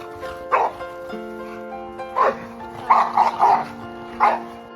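A rescue dog gives several sharp, close barks in short bursts, one single, then a quick cluster of three and another single bark, over faint background music.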